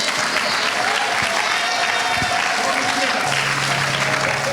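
A church congregation applauds for Jesus in a continuous, dense burst of clapping that fills the room, with voices underneath.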